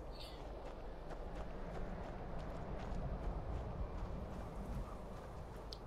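Horse hooves pounding at a gallop in the fantasy game Skyrim, a steady rapid clatter running continuously under a dense, loud game soundscape.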